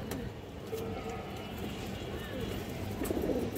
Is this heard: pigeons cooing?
yes